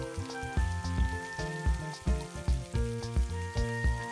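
Chicken balls fry in hot oil, a steady crackling sizzle with a bubbling pulse and pops, close and fairly quiet, and no voices.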